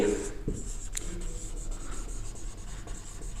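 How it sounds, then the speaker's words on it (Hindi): Marker or chalk writing on a classroom board during a biology lesson on the cell, a steady scratchy rubbing with a few sharper strokes, close and alone with no talking. "तो अभी हम लिखते हैं 5वें नंबर पे"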